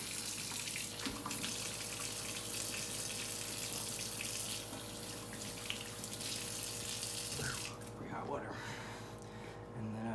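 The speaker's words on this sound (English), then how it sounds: "we're going to do a rinse, because I just handled the meat indirectly" Hands rinsed under a running kitchen tap after handling meat, a steady close hiss of flowing water that runs for most of the stretch before easing off, with talking over it.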